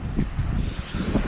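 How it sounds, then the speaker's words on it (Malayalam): Strong wind blows across a rough beach in the Maldives under dark, rainy skies, a loud, steady roar of gusting air and surf with no pause. "നല്ല കാറ്റും ഉണ്ട്."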